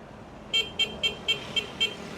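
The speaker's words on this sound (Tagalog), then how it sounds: "Parinig natin yung horn niya." A QJMotor ATR 160 motorcycle horn sounds six short, evenly spaced beeps, each a clear high tone, close and loud over a quiet background.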